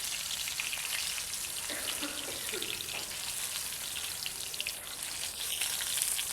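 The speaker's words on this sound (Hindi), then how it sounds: "हल्का हल्का इन्हें हमें तलना है।" Paneer pieces shallow-frying on a pan for tawa paneer give a soft, steady sizzle and crackle that runs unbroken, fairly quiet and close, with no talk.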